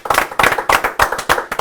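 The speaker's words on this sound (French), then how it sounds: "en vais donc demander à Lulu de Villeurbanne de bien vouloir nous rejoindre sous vos applaudissements" Studio audience on a French TV show set clapping to welcome a guest, a loud, close burst of rhythmic hand claps in regular pulses, with no talk over it.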